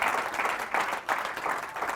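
Steady audience applause at a public speaking award event, a dense, continuous wash of clapping filling a hall as a winner is welcomed on stage.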